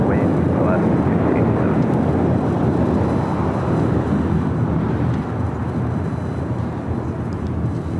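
A United heavy jet takes off from runway 25 right at LAX, its engines a loud, steady broadband roar throughout that eases slightly near the end.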